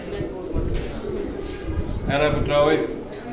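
Pigeons cooing in soft, low repeated calls, with a few brighter bird sounds and other background activity mixed in.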